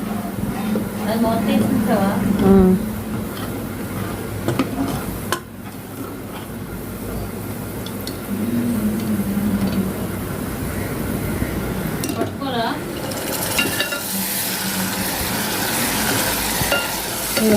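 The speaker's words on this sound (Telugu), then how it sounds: "ఇప్పుడు మనం తాలింపు పెట్టేసుకుందాం" A tadka for a dal dish sizzles in a pan and is stirred, giving a steady frying hiss with scraping. A person talks over it for much of the time, and the hiss swells louder near the end.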